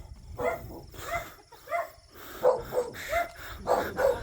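Belgian Malinois dog barking outdoors on a hillside hiking trail, a run of repeated barks and yips in an irregular rhythm, moderately near.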